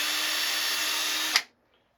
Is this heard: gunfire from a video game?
no